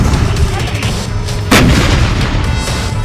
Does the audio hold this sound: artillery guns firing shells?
yes